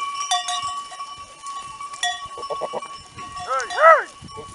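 A flock of sheep with shepherds near Kırıkhan, Hatay, heard as close bleats and clanking bells, with a louder rising bleat near the end and a voice briefly under them.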